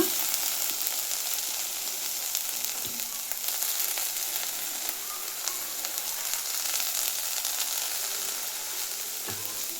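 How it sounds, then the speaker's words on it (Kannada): Fresh ginger and garlic roast in a pan for chicken sambar, giving a steady, moderately loud sizzle that runs unbroken throughout, with a few faint knocks of a utensil. "ಹಸಿ ಶುಂಠಿ ಮತ್ತು ಬೆಳ್ಳುಳ್ಳಿ ಎರಡು ಹಾಕಿ ರೋಸ್ಟ್ ಮಾಡೋಣ"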